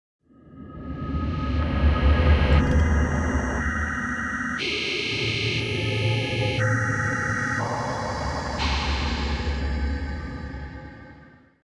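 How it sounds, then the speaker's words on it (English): A droning, eerie cave ambience with swelling whooshes and layered, distorted tones shifting in blocks, rising in and fading out over about twelve seconds. "the many creepy and unnerving sounds that can be encountered in the caves"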